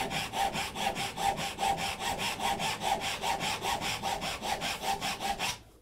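A hand saw cuts wood for dovetail joints, its blade somewhat dull: a steady run of about twenty-five even back-and-forth rasping strokes, close and clear with no talk, ending abruptly.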